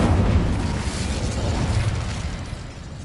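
The Incendio fire spell cast in the video game Hogwarts Legacy makes a loud, dense whooshing roar of flame that starts at full strength and slowly fades over about three seconds.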